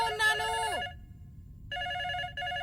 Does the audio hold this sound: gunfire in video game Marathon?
no